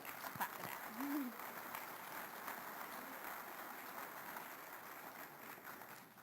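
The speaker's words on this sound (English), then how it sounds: "Clap for that." Audience applause at a city mayor's State of the City address, a broad, steady wash of many hands clapping in a large room, sustained and gradually easing off.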